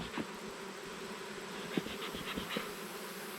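Steady buzzing from many honeybees around an open hive fills the clip, with a few faint knocks underneath; close and continuous.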